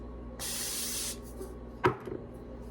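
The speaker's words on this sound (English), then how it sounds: "Go ahead and spray this." A steady hiss of spray from a can lasts under a second, followed by a clunk and faint handling noises in a quiet room.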